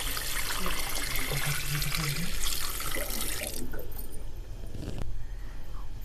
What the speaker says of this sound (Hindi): तो अभी हम इसमें पानी थोड़ा सा ऐड करेंगे।